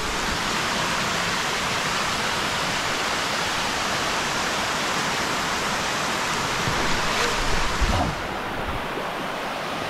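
A nameless waterfall in Malico roars as a steady, loud broadband rush throughout, with a brief surge near the end.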